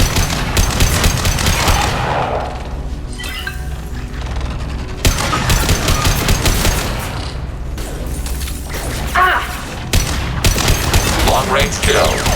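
Sustained video-game gunfire from Mass Effect 2 rattles in dense automatic bursts and heavy booming shots, loud and close, with brief lulls between volleys and in-game voices calling out over the combat.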